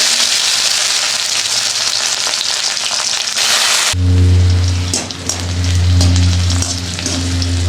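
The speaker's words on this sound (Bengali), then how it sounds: "রসুনের কোয়াগুলো লঙ্কাটা ভাজা হয়ে গেছে" Dried red chillies and garlic cloves frying in oil in a kadai, a loud, dense sizzle and crackle that shifts midway with a low hum added underneath, continuous with no talk.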